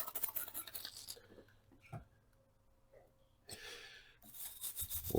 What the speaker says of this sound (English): We'll hit it with their toothbrush first.